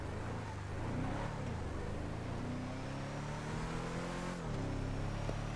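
Truck engine in a video game, a steady droning motor that rises and falls in pitch as it revs and drives, close and continuous with no talking.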